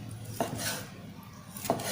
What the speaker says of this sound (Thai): ชิ้นหมูจะได้ออกมาสวยๆ หั่นแนวนอน